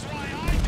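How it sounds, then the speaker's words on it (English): A nearby explosion during a video game heist, with a helicopter, bursts in as a sudden loud, low rumbling boom over steady game noise in the last third of the moment. "that's a close explosion."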